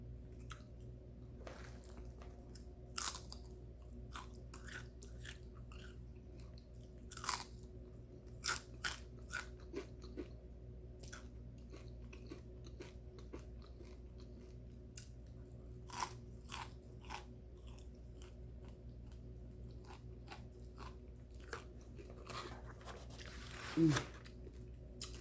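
Fried catfish, fried hard, is bitten and chewed close to the mouth, with a series of sharp irregular crunches and crackles over a quiet background, ending in one louder crunch.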